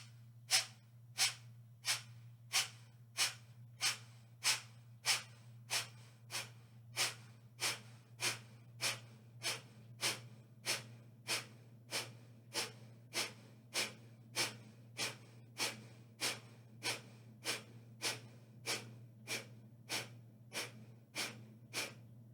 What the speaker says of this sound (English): After people felt what it's like to do the breath of fire